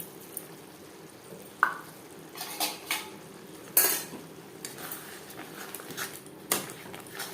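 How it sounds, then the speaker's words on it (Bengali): Gobindobhog rice is stirred into spiced masala in a pan, with sporadic scraping and clinks of a spoon against metal over a faint background sizzle. "মশলার সাথে গোবিন্দভোগ চাল বেশ ভালো করে মিক্স করে দেব"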